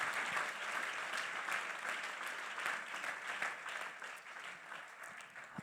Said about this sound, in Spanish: Más fuerte ese aplauso para Jesús.